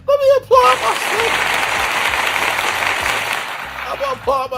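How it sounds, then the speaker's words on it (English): A person applauds alone after singing a live a cappella number, hands clapping rapidly and steadily for several seconds, close and loud, with brief voices at the start and end. "Let me applaud myself."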